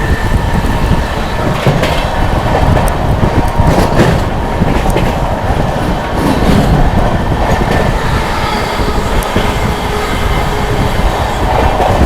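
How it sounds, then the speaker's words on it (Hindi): The Sealdah–New Delhi Rajdhani Express, train 12313, roars through Etawah Junction at high speed, a loud, continuous rush of rumbling wheels and rattling coaches that holds steady from start to finish. "अपनी शानदार राजधानी एक्सप्रेस स्किप करने जा रही है इटावा जंक्शन को ताबड़तोड़ रफ्तार में"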